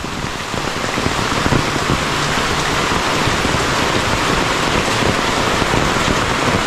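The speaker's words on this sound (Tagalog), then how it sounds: "Grabe yung ulan." Downpour near a swelling river: a thick, constant roar of raindrops hammering surfaces, loud and close, with no pauses or other sounds standing out.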